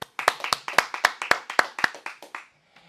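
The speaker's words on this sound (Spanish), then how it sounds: "Tenemos a Laura de la Fundación Canarina, un aplauso." Small studio gathering claps for a guest from a foundation, about a dozen crisp, evenly spaced hand claps in a steady rhythm, close and clear, fading out near the end.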